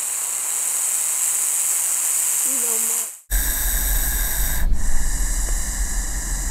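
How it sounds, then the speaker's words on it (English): A bull snake hisses defensively, a steady, loud hiss that fills the clip, broken by an abrupt cut midway, then continues with a lower rumble underneath. "the impressive bull snake, which produces an intimidating hissing sound as a defensive tactic"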